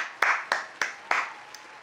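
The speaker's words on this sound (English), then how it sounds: "But one more round of applause" Five crisp, close handclaps from a single person in a music reaction session, evenly spaced at a steady rhythm, with the last one noticeably softer, and no other sound around them.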